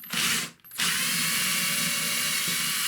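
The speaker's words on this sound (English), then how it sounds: "drill a hole in the middle on that hole that I've drilled, we'll just make it bigger" A power drill whirs steadily at close range, briefly stopping then starting again and grinding on without a break through about 9mm of MDF, enlarging an existing hole.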